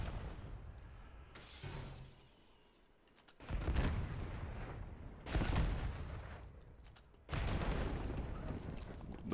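Call of Duty match with bursts of gunfire and explosions, heavy crackling blasts arriving in three or four loud waves separated by brief lulls, with no talk over them.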